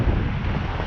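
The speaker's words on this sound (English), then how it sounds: "It's quite windy today as well." Steady wind buffeting the microphone along the Blackpool seafront promenade near Central Pier, a continuous low roaring rush with no breaks and no voices.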